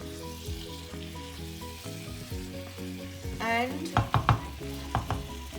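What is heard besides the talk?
marrow masala sizzling in the pan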